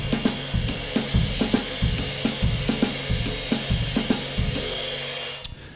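Jazz drum kit played in a broken-time style, working through a variation on a motif: loose, irregular hits and cymbal wash repeating in short phrases for several seconds, close and clear with no talking.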